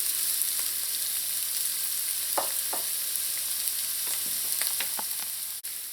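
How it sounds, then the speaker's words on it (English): Chopped onions sauté in a pan for spinach (chorai bhagi), giving a steady, close sizzle with a few light clicks and taps of stirring scattered over it. "We're just going to allow this to saute until it's translucent."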